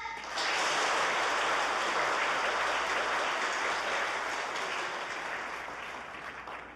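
Dense, sustained audience applause for a debate team in a school competition hall, rising quickly and holding loud before gradually tapering off, with no voices over it.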